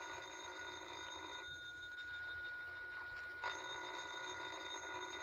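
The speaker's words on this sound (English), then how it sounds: "Well, ain't you going to answer the phone?" A telephone bell rings continuously in an old-time radio drama, a faint, thin, steady ringing with a brief dip in the middle and no talk over it.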